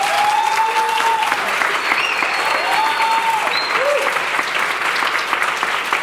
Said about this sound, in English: Please join me in a colossal round of applause for Anderson.